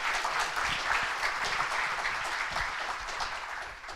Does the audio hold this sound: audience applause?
yes